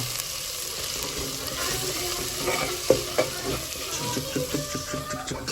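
Coconut paste is stirred into a village chicken curry in a pan, a steady scraping churn over constant sizzling, with rhythmic knocks of the spoon toward the end.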